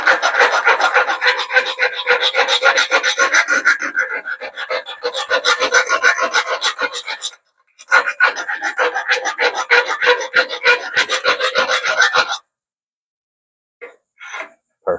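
Metal file rasping burrs off a boat trailer roller, loud back-and-forth scraping strokes in rapid rhythmic bursts, pausing briefly midway and trailing off into a few short scrapes near the end.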